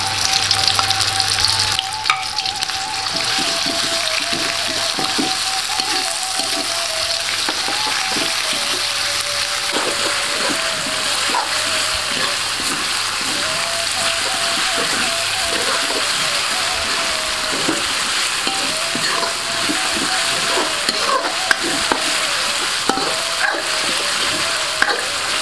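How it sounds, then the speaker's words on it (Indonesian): Leaves sizzle and crackle in hot oil in a pan as they are sautéed for a white fish curry, a constant close frying hiss with faint stirring scrapes throughout. "Ditumis cukup sampai bau harum saja"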